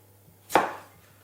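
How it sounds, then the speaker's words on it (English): A knife slices through boiled potato on a cutting board for a potato chive salad, making one sharp, close chop that fades quickly into quiet, with no talking. "we're gonna cut the potatoes in even parts."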